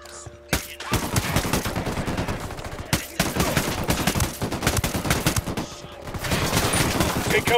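Dense automatic gunfire from the video game Ghost Recon Wildlands rattles in loud, rapid bursts with brief pauses, nearly continuous across the stretch, with a voice faintly underneath.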